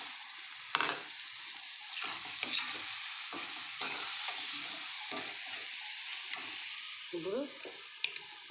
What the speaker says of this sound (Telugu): ఇప్పుడు మనం వేపు పెట్టుకున్న గుడ్లు వేసుకుందాం.